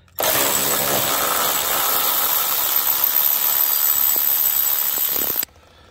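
A power tool with a number 19 socket loosens a truck body mount bolt on a 2nd gen Toyota Tacoma, a loud continuous whirring drone held steady for about five seconds, then cutting off abruptly.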